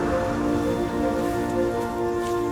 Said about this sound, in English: the rain, and the wind.